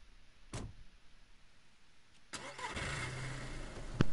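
A car engine cranks and starts after a short click, catching to a steady idle that hums on, with a sharp knock near the end; no talking.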